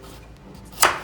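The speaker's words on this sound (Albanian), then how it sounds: "Pra prerja karrotës sipas dëshirës" A kitchen knife slices through a carrot in a single crisp chop, heard close up near the end after a quiet moment.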